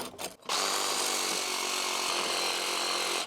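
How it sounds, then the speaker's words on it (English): A reciprocating saw with a special blade cuts through nails in a cold frame lid, a loud, continuous buzzing rasp starting after a brief pause and running steadily to the end. "I'm going to use my reciprocating saw with the special blade, and hopefully it'll cut through nails"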